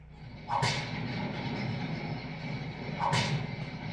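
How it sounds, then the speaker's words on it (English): Two sharp whip cracks ring out in a castle courtyard about two and a half seconds apart, each a crisp snap over a low continuous rumble. "I hear in the courtyard the heavy wheels and the cracking of whips"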